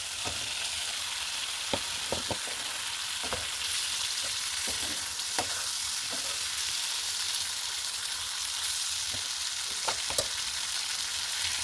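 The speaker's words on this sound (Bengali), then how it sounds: "এবার সেই ভাজা চিংড়ি মাছগুলো দিয়ে দেবো।" Already-fried prawns sizzle steadily in hot oil, a dense crackling hiss broken by occasional sharp clicks of stirring, close and unchanging throughout.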